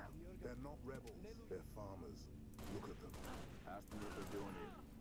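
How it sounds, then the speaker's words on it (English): Rapid minigun fire from the Halo video game rattles in dense bursts during the second half, with people talking excitedly over it throughout. "Oh, it's got a minigun."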